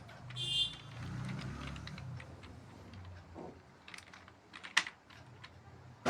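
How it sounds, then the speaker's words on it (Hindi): Typing on a keyboard connected to a mobile phone, heard as scattered light key clicks at close range with a few sharper taps and low room noise underneath, no voices. "मैं यहाँ पर टाइप करके आपको दिखाता हूँ।"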